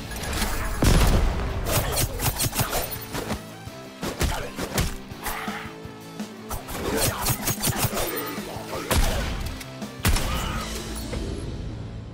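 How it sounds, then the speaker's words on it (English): Shotgun blasts in a video game, a rapid run of loud, punchy shots repeating in clusters over busy game noise, some heavy booms among them, close and dominant throughout. "Shotgun blast"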